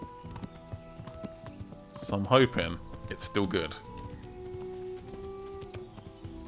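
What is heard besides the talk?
horse galloping, from the video game Kingdom Come Deliverance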